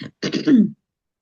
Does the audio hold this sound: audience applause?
no